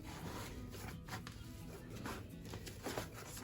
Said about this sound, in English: I'm going to start kneading my dough now